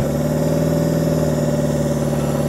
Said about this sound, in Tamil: வண்டி பேக்கில் ரேஸ் பண்ணுங்க